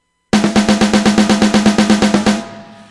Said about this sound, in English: If I play all 16ths at the same volume, it's going to sound like this.